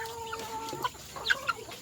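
Texas breed chickens clucking in a rural provincial yard, with several short, close clucks and squawks spread across a quiet background.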